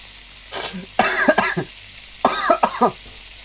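A person coughing hard in three rough bursts, each a cluster of two or three harsh coughs, close and loud, with a faint background hum while playing a cooking game.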